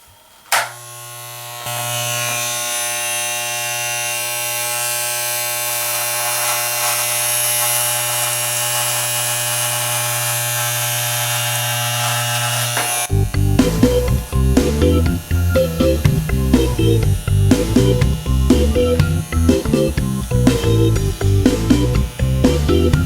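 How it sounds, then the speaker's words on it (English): An electric hair clipper fitted with a tapered attachment cuts hair during a self-haircut, giving a loud, steady close-up buzzing hum for about thirteen seconds before a rhythmic, beat-like pattern takes over. "I'm going to put this tapered attachment on the clipper"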